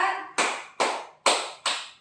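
A school class claps in unison, four sharp, loud claps evenly spaced about half a second apart, each ringing briefly, after a short stretch of voices.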